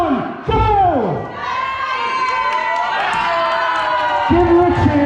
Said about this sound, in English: Give her a cheer, give her a cheer.